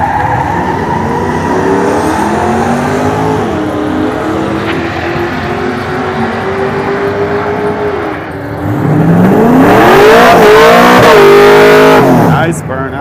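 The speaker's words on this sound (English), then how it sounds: "Nice burnout." A Pontiac drag race car does a burnout at Summit Motorsports Park, its engine revving hard and rising in pitch, then surging into a loud, roaring crescendo near the end, with a commentator talking over it.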